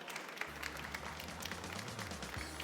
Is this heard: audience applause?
yes